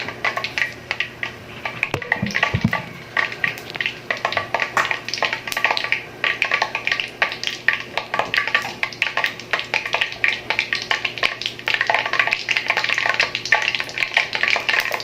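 Steady dense crackle and sizzle of hot cooking oil bubbling in a pan for frying pork liver, continuous and close, with a brief low clatter early on.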